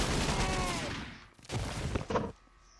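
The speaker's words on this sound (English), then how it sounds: "Somebody else shooting me." Gunfire in the video game 50 Cent: Bulletproof, a burst of rapid shots up front that fades, then a few more loud cracks after a brief gap.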